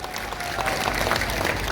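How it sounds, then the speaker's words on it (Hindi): Dense crowd applause at a political rally in Haryana, a councillor welcomed with steady, loud clapping from many hands that continues without a break. "जोरदार ताली बजा के स्वागत करें।"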